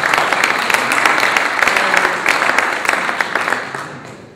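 Loud applause from a large audience at a political assembly in Milan, dense steady clapping throughout that tapers off at the end.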